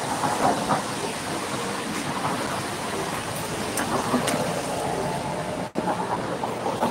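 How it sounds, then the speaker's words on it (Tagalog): Steady rain falling outdoors, a continuous broadband hiss with a faint low rumble underneath, constant and fairly loud throughout with one brief dropout near the end. "Bakit hindi na tumigil yung ano, ulan?"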